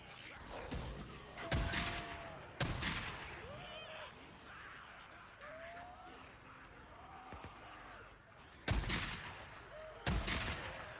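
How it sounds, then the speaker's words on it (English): Video game gunfire from farm gunners on a river farm map, heard as several loud sharp broadband cracks spaced apart over a steady ambient bed, with whooshing tonal game sounds between the shots. "See that gunfire coming from the farm gunners? They'll keep that up all night long."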